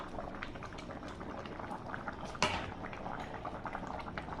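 Vegetable khichuri bubbling steadily in a pot, a soft continuous simmering burble with small pops, close and quiet, one slightly louder bubble burst midway.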